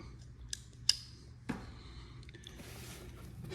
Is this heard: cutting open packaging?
yes